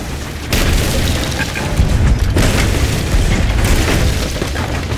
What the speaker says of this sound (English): Both sides, use the cannons.